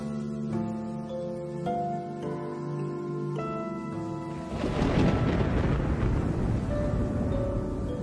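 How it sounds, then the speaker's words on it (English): A broad, rumbling roll of thunder from an approaching storm on open plains rises and holds for several seconds, following soft sustained orchestral tones. "a storm begins to brew."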